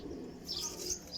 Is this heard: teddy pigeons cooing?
yes